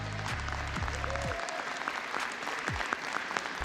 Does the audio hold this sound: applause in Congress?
yes